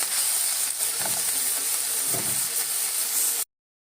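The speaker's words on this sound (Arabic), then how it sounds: "هننزل بالفلفل، هنشوح برضو 5 دقايق كده تقريبا" Bell peppers and onions sautéing in a pan give a steady, close hiss and sizzle with a few faint clinks of stirring, then cut off abruptly at the end.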